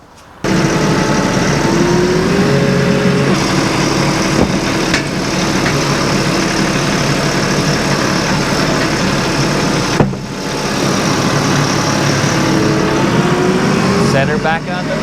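A farm tractor's engine runs steadily at a sawmill while lifting a 1,600-pound log, a constant loud low rumble throughout with brief shifts in pitch and a short knock near the middle.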